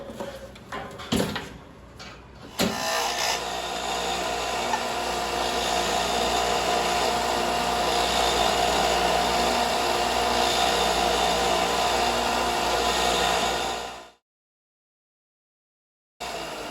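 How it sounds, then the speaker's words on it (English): Disc sander grinding small steel bracket pieces in a workshop, a loud continuous abrasive roar after a few knocks as work begins, running steadily before cutting off abruptly. "And then I took them over to the disc sander."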